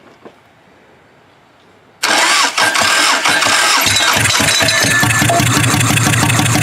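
A Toyota Camry wagon engine with no spark plugs, running on one cylinder, starts after a quiet moment: a sudden loud catch, then a rough, uneven idle that knocks and stumbles close up.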